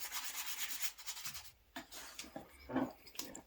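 Sandpaper rubbing over a hand-carved wooden spoon, a close, raspy scratching that repeats in quick strokes, with brief pauses and a few louder scuffs.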